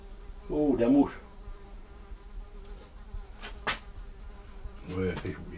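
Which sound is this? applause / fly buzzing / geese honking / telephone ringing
fly buzzing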